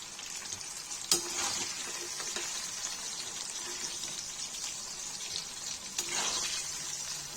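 Tomatoes frying in a pan for Kashmiri-style baingan tamatar, giving a steady close sizzle with a couple of sharp clinks from a utensil against the pan.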